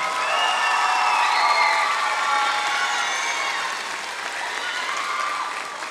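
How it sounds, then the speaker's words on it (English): Audience applause fills the hall at a school spring concert for a beginning band and choir, a steady dense clapping that holds for the whole stretch and eases slightly toward the end, with a faint murmur of the crowd. "Give a round of applause, please."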